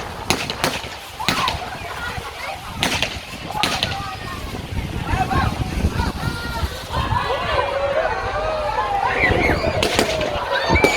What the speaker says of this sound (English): in the background we got some tourbillons, some spinning, whirling comets going in the air